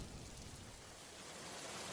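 Steady rain in an animated cartoon, a dense even hiss with no talk over it.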